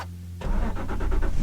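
Cranking briefly, the V8 of a manual Aston Martin Vantage GT fires right up and settles into a loud, throbbing idle, recorded from inside the car with no talk.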